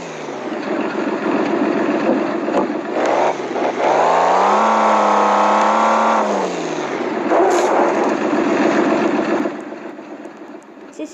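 A car engine in a truck simulator video game runs steadily, droning and rising briefly in pitch mid-clip as if revved before settling back to a constant hum, loud and close with no speech over it.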